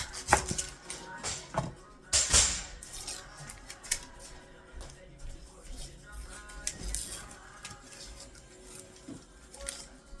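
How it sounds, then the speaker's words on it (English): Irregular crisp knife cuts through an onion against a board, scattered taps and slices with short pauses, quiet and close, with faint background noise. "Then I'm going to go ahead and cut this onion up."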